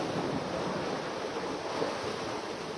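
Ocean surf washes ashore at night during a fishing outing, a steady, dense roar of breaking waves with some wind buffeting the microphone, continuous and fairly close with no voices.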